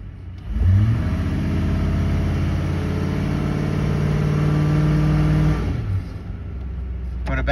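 A car engine is held at about 2,000 rpm during an automatic transmission stall test, a steady close drone that rises as the revs come up, holds for several seconds, then drops back toward idle.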